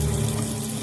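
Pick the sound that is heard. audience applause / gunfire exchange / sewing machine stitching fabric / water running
water running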